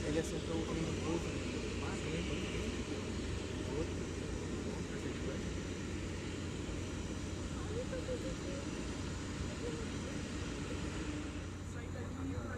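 A Luftwaffe Airbus A350 with registration 10+01 at Manaus airport gives off a steady, broad jet-engine roar that stays loud and even throughout, with people speaking over it.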